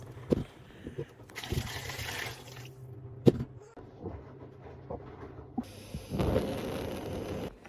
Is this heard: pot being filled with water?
yes